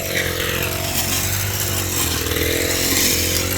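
A cross cutter saw cuts, a loud, close, continuous engine-like roar with a steady droning buzz that fills the whole stretch without pause.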